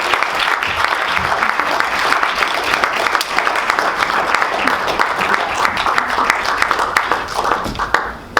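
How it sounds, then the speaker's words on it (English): Audience applause at a conference breakout session, a dense, steady wash of clapping from a crowd in a room that sustains for about eight seconds before tapering at the end. "Give these guys a round of applause."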